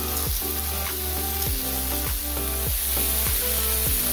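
Meat stir-frying in a pan until browned, a steady loud sizzle with periodic scraping strokes of a spatula across the pan, close up and without speech.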